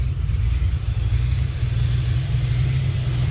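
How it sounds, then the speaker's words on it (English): A Ford Mustang Foxbody engine runs steadily at close range, a deep, constant rumble with no pauses and no speech. "She runs, she drives,"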